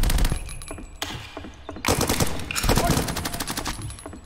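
Rapid, repeated gunshots crack from a sniper in the video game Roblox, coming in dense clustered bursts with brief gaps between them.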